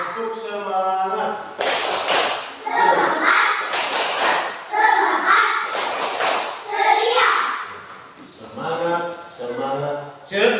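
A third-grade class at a school in Kupang chants together with a teacher, rhythmic clapping and thumps landing between loud, close children's and adult voices.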